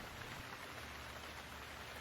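Rain falling as a soft, steady, even hiss, faint and continuous throughout, with no voices.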